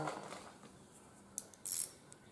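A 9/16 bolt being cranked down on a light mount fitted to a John Deere, heard as a few brief metallic clicks and a short ratcheting burst near the end, close by and with no talking.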